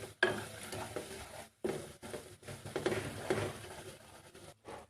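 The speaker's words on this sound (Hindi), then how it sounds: "और अब हम इसको फ्राई करेंगे हल्का से आंच पे।" Semolina frying on low heat in a pan, heard as intermittent stirring scrapes and a soft sizzle in bursts separated by brief pauses, fairly quiet and close.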